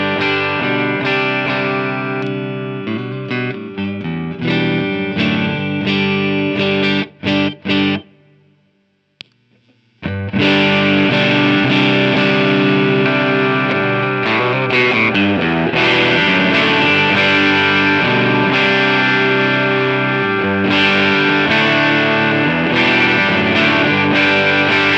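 Electric guitar driven through a DIY high-voltage tube overdrive pedal with a 12AX7 tube, feeding a clean amp simulator: sustained distorted chords ring loud and steady, with a brief silent gap partway before the playing resumes.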